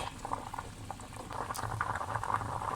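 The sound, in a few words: potato boiling in a pot of water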